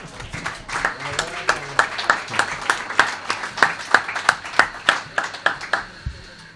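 An audience in a room claps for a teacher, a steady run of distinct handclaps in a regular rhythm that build slightly and then stop abruptly near the end.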